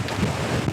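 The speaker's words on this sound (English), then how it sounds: "But man, that wind is gusting." Strong gusting winter wind during flooding in Northampton, Massachusetts buffets the microphone in a brief, loud, low roaring rush with no voices.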